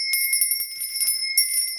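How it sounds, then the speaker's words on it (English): A hand bell rings several times in quick succession, bright sustained metallic tones rising clearly and close over an otherwise quiet room, with no talking. "I will be ringing a bell to cleanse the air"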